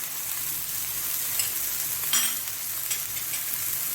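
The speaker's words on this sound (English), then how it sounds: "Saute it for another 2 to 3 minutes." Vegetables seasoned with black pepper, turmeric and salt sautéing in a pan for ragi soup, giving a steady, moderate sizzle with a few brief stirring scrapes, no talking.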